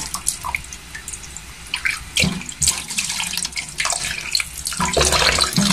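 Tap water running and splashing while milkfish (bangus) is washed by hand in a sink, close and uneven, with drips and wet handling noises.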